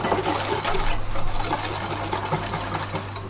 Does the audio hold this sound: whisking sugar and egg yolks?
yes